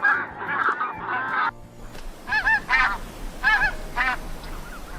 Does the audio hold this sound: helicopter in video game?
no